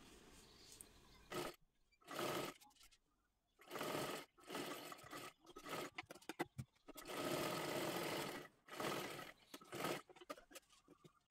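A sewing machine runs a double line of stitching on saree fabric for a one-piece dress, racing in repeated bursts that stop and start, some long and some short, close and clear.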